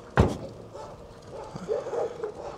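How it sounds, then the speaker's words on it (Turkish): Several dogs bark outdoors in a roaming pack, with one loud close bark at the start followed by fainter, scattered yips and barks further off. "Çok büyük köpek istilası var."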